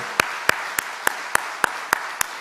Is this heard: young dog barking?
no